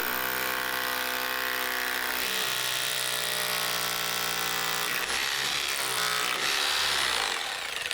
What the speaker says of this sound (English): masonry drill straight through the lot into the brick.